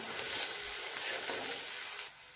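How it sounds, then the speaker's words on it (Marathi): Garlic and coriander being sautéed with roasted spices in a pan for a cluster bean curry, a dense continuous sizzle and hiss with faint stirring, fairly close and without talk. "फक्त लसूण आणि कोथिंबीर कच्चा, त्याच्यामुळे छान असं परतून घ्यायचं"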